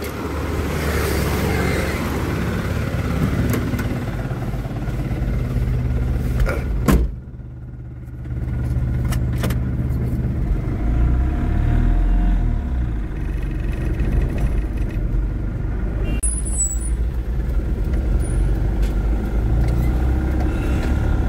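A loaded goods vehicle rumbles with a low, steady engine drone, broken by a sharp door thump and a short lull before the engine noise picks up again as it drives off, heard from inside the cab.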